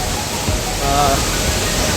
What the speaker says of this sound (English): Waisudang waterfall, and now we are going back.